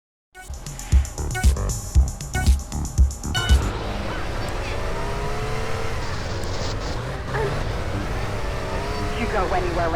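Car engines revving hard at the start of a street race in Grand Theft Auto: San Andreas, a few rhythmic throttle bursts giving way to a sustained loud engine drone with whining pitch sweeps.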